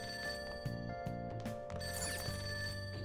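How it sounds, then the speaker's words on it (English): A telephone rings insistently inside the Persona 5 video game, its bright repeating bell pulses sounding loud and close over steady game music. "That ringing sound isn't coming from my cell phone."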